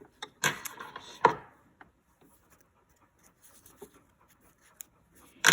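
Scissors cut through fabric for a homemade fabric basket, two or three close, crisp snipping and rubbing bursts early on, then faint handling rustles with short pauses and no talk.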